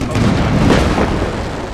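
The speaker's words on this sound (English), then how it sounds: "huge explosions" Dense, rumbling explosions burst continuously, loud and close, with a crackling, booming battlefield texture and no speech, in the video game Napoleon: Total War.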